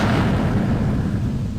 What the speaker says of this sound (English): Shin's thoughts were cut off by the sudden explosion in the distant dune.